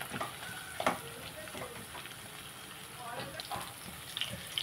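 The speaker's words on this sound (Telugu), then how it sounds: "ఉల్లిపాయ వేగిపోతుంది, వేసేద్దాం" Onion frying in a pan gives a soft, continuous sizzle with occasional stirring scrapes, fairly faint, while someone talks over it.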